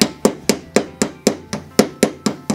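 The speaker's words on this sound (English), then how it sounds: "Let's get the big hammer" A big hammer strikes steadily on an axle of a homemade catapult, about ten loud, sharp blows landing evenly roughly a quarter second apart, close and with no talking.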